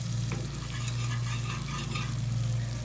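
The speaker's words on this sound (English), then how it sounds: "You can tell a difference in the two skillets when you scrape them. See how rough that sounds?" A utensil scrapes across the rough cooking surface of an Ozark Trail cast iron skillet, a continuous gritty rasp with a sizzling texture, heard close and alone.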